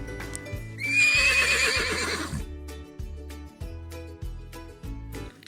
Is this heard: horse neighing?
yes